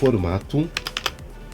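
Several quick clicks of computer keyboard keys being typed while entering a time into an Excel spreadsheet, a short close burst heard just after a brief bit of speech.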